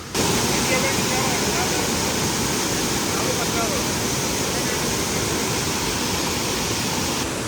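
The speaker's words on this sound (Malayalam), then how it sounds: "ഇവിടെ ഇതുവഴിയാണ് താഴോട്ട് വെള്ളച്ചാട്ടത്തിലോട്ട് പോകുന്നത്" Water rushing down a waterfall, a loud, steady roar of falling water that holds constant from start to finish with no pauses.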